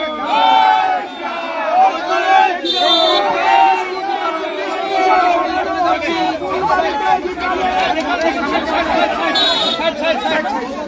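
A dense crowd of BJP supporters chanting slogans together at a celebration, loud and close, voices rising and falling with shouts breaking through the steady roar.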